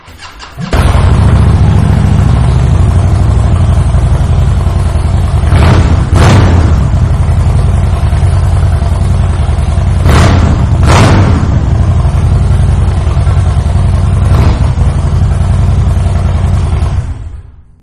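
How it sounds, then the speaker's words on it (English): A 2010 Harley-Davidson Street Bob with a Vance & Hines short shot exhaust fires up and idles with a deep, loud exhaust rumble, punctuated by several sharp throttle blips and revs. "fire this bike up so you can hear that short shot exhaust"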